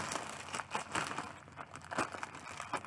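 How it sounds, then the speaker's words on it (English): Plastic mailer package for a SHEIN wedding dress being opened by hand without scissors, giving a steady run of close, crisp crinkling and rustling with brief tearing bursts across the whole stretch, no talking. "So we're gonna open up this package."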